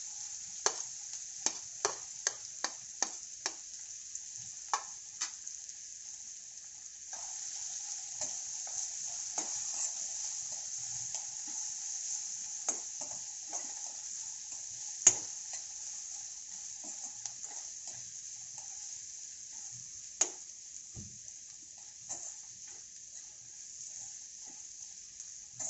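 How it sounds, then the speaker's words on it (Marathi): Onion being sautéed in a pan for a spicy sprouted moth bean curry, a bright continuous sizzle broken by frequent sharp spatula taps and scrapes, with the frying growing fuller partway through, no voices. "आता आपल्याला इथे कांदा घालून तो कांदा चांगला परतून घ्यायचा आहे"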